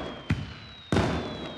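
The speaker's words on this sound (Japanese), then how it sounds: "おお、花火花火。" Fireworks in the video game Paper Mario: The Origami King: two sharp bursts, the second louder and followed by a fading crackle, over a faint steady game tone.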